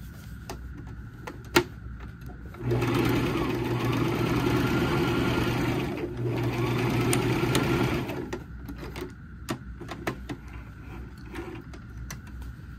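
Sewing machine stitching the box corners of a fabric trick or treat bag, a steady whirring run of about five seconds with a short pause, framed by faint clicks and handling knocks before and after.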